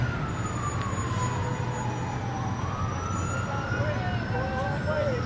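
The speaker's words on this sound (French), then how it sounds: "C'est identifiable par les sirènes surtout." Emergency sirens wail and sweep up and down in pitch over loud city traffic rumble on Eighth Avenue in New York, with faint voices mixed in.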